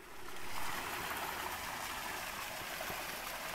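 A small stream in the Ardennes flows gently with a soft, steady trickle and faint burble at low level, without interruption. No one speaks.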